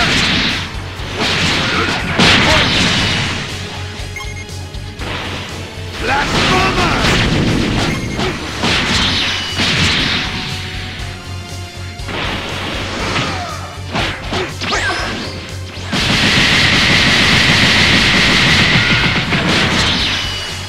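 An Electro Eclipse Bomb attack in the Dragon Ball Xenoverse video game, loud repeated blasts and crashes with whooshing energy bursts over a long stretch, mixed with shouted voices and game music.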